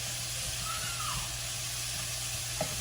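A constant close-up sizzle and hiss of chicken frying in a pan, with a faint clink near the end.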